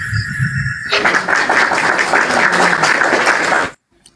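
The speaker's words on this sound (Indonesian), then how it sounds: "berikan tepuk tangan yang gemuruh untuk Pak Desugi" Loud, sustained audience applause for Pak Desugi at a live event, a dense wash of clapping that swells in after a quieter opening and runs steadily for about three seconds before cutting off abruptly.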